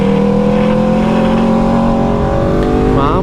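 A motorcycle fitted with a new HP Corse exhaust revs hard and loud nearby, a sustained rising engine tone with harmonic whine and a quick shift toward the end, with no talk.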